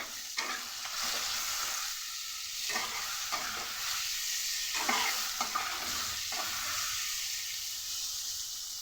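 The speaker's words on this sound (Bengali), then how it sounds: "দেব পরিমাণ মতো নুন আর হলুদ দিয়ে ভালো করে ভেজে নেব" Water lily stems fry in a pan with salt and turmeric, giving a steady close sizzle broken by repeated scraping stirs, with no voices.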